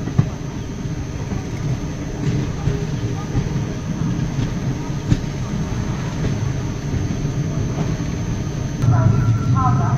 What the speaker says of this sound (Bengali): Train new Farakka junction enter করছে।